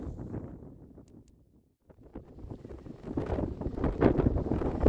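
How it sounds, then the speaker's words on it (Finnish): Strong wind on an open fell in Finnish Lapland buffets the microphone with a deep, rumbling roar, easing briefly before gusting back harder. "täällä tuulee todella kovaa."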